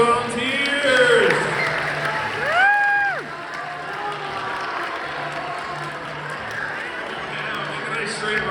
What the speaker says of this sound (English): Round of applause for the volunteers.